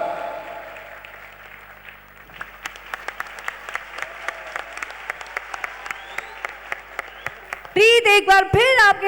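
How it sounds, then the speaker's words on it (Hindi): A festival-stage audience claps in a sharp, rhythmic unison beat at Shri Kalki Mahotsav, building from a soft murmur into loud, evenly spaced claps, then giving way to a sudden burst of amplified music at the end. "जोरदार तालियां।"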